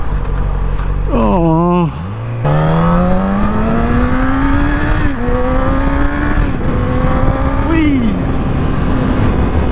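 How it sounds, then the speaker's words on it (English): A passing car's engine tone swells and climbs in pitch, then holds a steady rising drone for several seconds, close and loud. A man's brief exclamations sit over it. "Oh, there's a car."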